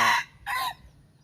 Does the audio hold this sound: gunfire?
no